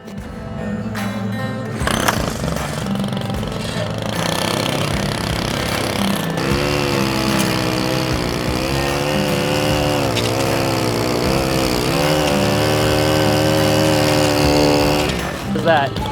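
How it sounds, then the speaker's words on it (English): A spinning weed whacker edges along a lawn line, a loud buzzing whine that starts abruptly and holds steady, wavering in pitch as it cuts, with people talking underneath. "So this is the same thing with the weed whacker."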